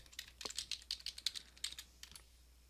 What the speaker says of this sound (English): once the search box comes up, then you can simply type what it is that you're wanting to search for.